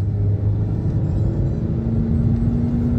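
Toyota Sienta with a CVT in manual mode, its engine giving a steady loud droning hum from inside the car, a constant low rumble with a sustained tone that holds without a clear rise.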